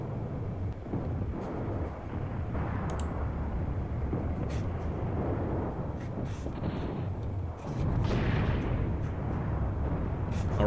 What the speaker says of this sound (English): Oh, I think just mortar shots. Pretty much just mortars.